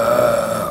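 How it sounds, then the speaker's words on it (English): Burp: a brief, close, voiced belch with a steady droning pitch, lasting under a second with no talking. "Yeah, I burped too."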